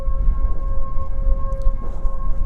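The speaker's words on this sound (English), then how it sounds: "hopefully you can hear the siren in the distance" A distant siren wails at midnight on New Year's Eve outside a Portugal farm on a freezing night, holding one steady tone far off beneath heavy wind rumble for a few seconds.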